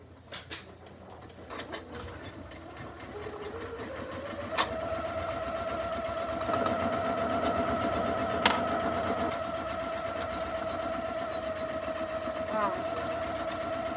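A Janome MC230E embroidery machine starts up and stitches steadily, its mechanical whir and rhythmic needle clatter settling into a continuous hum after a few bumps and clicks at the start, with someone speaking over it.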